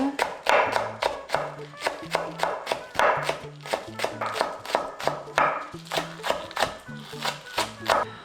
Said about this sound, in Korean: 대파 한 대. 송송 다져줍니다.